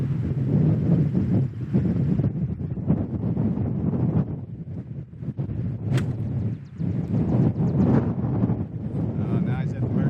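Wind gusts across a golf course, buffeting the microphone with a rumbling roar that rises and falls under intermittent talk.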